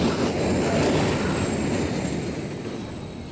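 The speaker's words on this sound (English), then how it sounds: "Another train coming." A train rumbles past in Modern Warfare III, a loud, continuous roar with a thin wheel squeal on the rails above it that slowly fades as it moves away.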